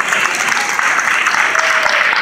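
A comedy show audience gives a loud, dense round of applause, the clapping close, continuous and full throughout with faint crowd murmur.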